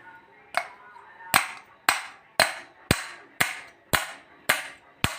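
A metal rod is hammered to knock the bearing out of a jammed ceiling fan: nine sharp, ringing strikes land at a steady pace, close and distinct, each decaying quickly before the next blow.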